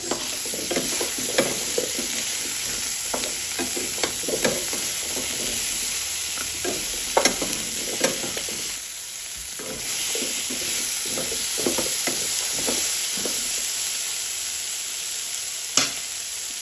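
Kalabasa squash stir-frying in a hot pan with ginisa flavor seasoning, a constant loud sizzle broken by repeated scraping and clacking strokes of a spatula as the pieces are mixed.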